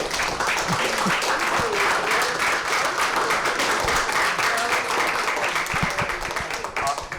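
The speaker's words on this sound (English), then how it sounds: "let's give a big hand" Audience applause at a symposium, a dense, even rattle of many hands clapping that continues steadily for about seven seconds.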